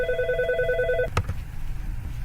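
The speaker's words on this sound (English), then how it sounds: "That was my office phone, which I cannot mute." An office telephone rings with a repeating electronic warble for about a second, then a couple of soft clunks as it stops, leaving quiet room noise behind.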